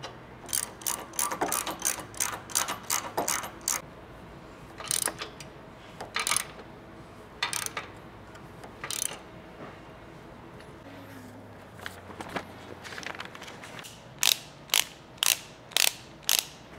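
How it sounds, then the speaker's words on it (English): A ratchet threads factory bolts into rivet nuts on a 2022-or-newer Toyota Tundra during a recovery point and hybrid bumper install, giving quick bursts of close, crisp clicking separated by pauses, with sharper evenly spaced clicks near the end. "We can go ahead and get these threaded into those riv nuts."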